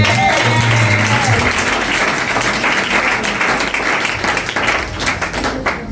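Congregation in a church clapping and applauding together, a dense, continuous wash of hand claps that stays loud throughout with a low musical hum underneath.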